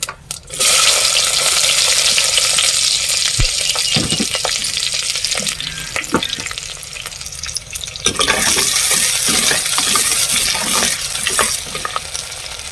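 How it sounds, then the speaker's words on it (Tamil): Onion and garlic sauté in oil with mustard seeds and cumin, a loud, close, continuous sizzle punctuated by spatula clacks and scraping in bursts, with no one talking. "நல்லா வதங்கட்டும்"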